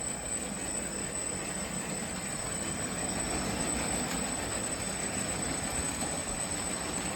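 Steady rolling rumble of two model train engines running along a track on one transmitter, continuous and fairly close, with a faint high whine above.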